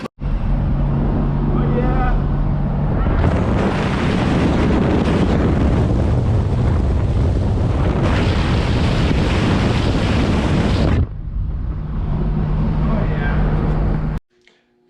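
A 1967 Ford F100 pickup on a test drive, its engine and road noise a loud, steady roar that swells for long stretches with heavy wind buffeting the microphone throughout.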